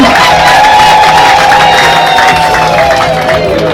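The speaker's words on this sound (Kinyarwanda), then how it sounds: "Yego amashyi rwose." A crowd at a wedding celebration cheers and shouts loudly, the steady roar of many voices filling the space, with some claps mixed in, continuous and close for the whole stretch.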